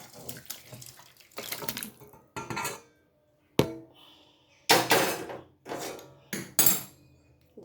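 Kitchen clatter of a metal pot of Bengali fish curry being lifted off a stove: several separate knocks and scrapes of metal and water sounds in irregular bursts with short pauses, close and fairly loud, no talking.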